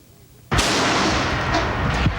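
Fireworks set off during an outdoor safety demonstration: a sudden loud blast after a short quiet start, then a sustained, harsh, roaring burn that stays loud to the end.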